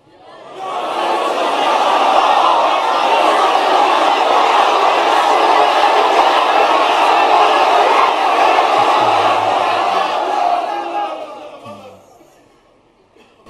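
A large crowd shouts a religious slogan in unison, loud and sustained for about ten seconds with overlapping voices, before fading into quiet.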